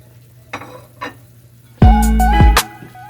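Potatoes dropped into a pan of frying chicken adobo with string beans set off a sudden loud sizzle that holds steady for under a second, then fades, after a couple of soft clinks.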